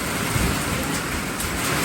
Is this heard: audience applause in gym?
no